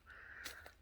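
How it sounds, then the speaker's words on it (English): A crow-like caw rings out once in a quiet garden, faint and at some distance, over low steady background noise. "Bird."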